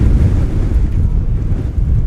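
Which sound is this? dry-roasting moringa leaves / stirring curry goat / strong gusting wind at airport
strong gusting wind at airport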